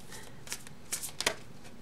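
Tarot cards are shuffled softly by hand at close range, a quiet riffling with a few sharper flicks near the middle.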